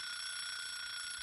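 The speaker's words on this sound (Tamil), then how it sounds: "இந்த அலாரத்தை யாருப்பா கண்டுபிடிச்சது?" A loud alarm clock rings in a cartoon, a continuous shrill, buzzing electronic tone holding steady throughout the brief moment, with no voices.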